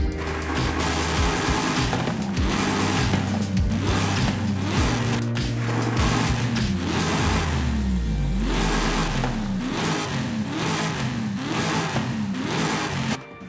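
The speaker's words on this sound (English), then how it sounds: "I think I'll go with the V8. Slam a turbo into that thing." A turbocharged V8 car in Forza revs hard through repeated gear climbs, rising and dropping in steady cycles with a long deceleration in the middle, loud and close with no talking.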